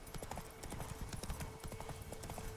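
Horse hooves clip-clop in a quick, steady rhythm in The Witcher 3: Wild Hunt, close and continuous over a dense background with no talking.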